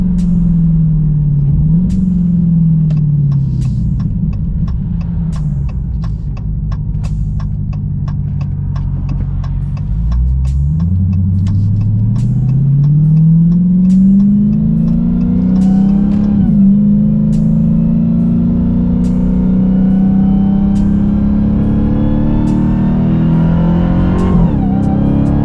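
A 2021 Dodge Challenger SRT Hellcat engine roars loudly and steadily as the car accelerates and the tyres break traction. The pitch dips and climbs repeatedly through gear changes.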